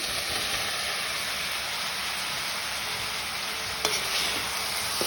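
Boiled potatoes stirred into a sizzling tomato gravy, steady frying crackle with a few spoon knocks and scrapes against the pan, close and even.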